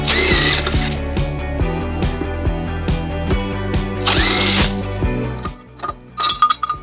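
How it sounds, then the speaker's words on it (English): A power tool with a 14mm socket removes the tow hook bolts on a 2006 Nissan Murano, buzzing loudly up close in pulsing bursts with metallic clinks between them. "We'll be using a 14mm socket to remove them."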